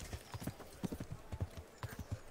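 A horse's hooves clip-clop in the medieval video game Kingdom Come: Deliverance, a quick, uneven run of close, soft thuds that stops and starts.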